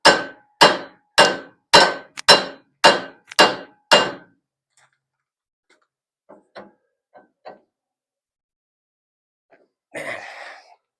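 Hammer blows on an old rubber bushing of a rear axle: seven sharp, evenly spaced metallic strikes in quick succession, followed by faint scattered knocks and a brief rustle.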